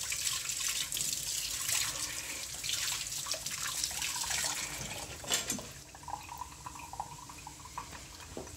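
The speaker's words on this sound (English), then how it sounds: "Quick, rinse my hands off." Tap water running steadily into a kitchen sink as hands are rinsed, a continuous close splash that softens and thins toward the end.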